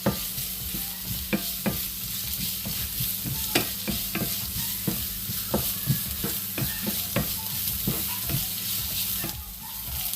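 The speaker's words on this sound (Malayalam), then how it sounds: "നമുക്കൊന്ന് നന്നായിട്ട് വഴറ്റിയെടുക്കാം." Ginger sautéing with a split green chilli in a pan for a dry fish curry with grated coconut: a steady close sizzle under repeated scraping strokes of a spoon stirring against the pan, with no talk.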